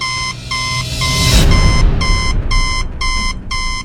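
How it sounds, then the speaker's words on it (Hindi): A fingerprint scanner machine sounds a loud alarm, rapid regular beeping in evenly spaced bursts of pulses, with a rushing swell of noise in the middle and no voices. "उसके अंदर एक लाल बत्ती जल रही थी और वो जोर जोर से बीप कर रही थी।"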